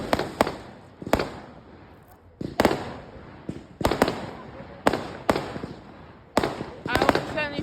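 Fireworks bursting over bonfire night in Beverley on the 5th of November: about eight loud, sharp bangs in an irregular string, with crackle near the end and excited voices cheering between blasts.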